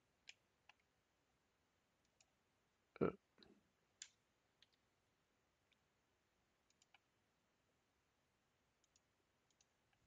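Sparse, faint computer mouse clicks during CAD-style drafting work, with one louder burst of clicking and a few scattered single clicks over a quiet background.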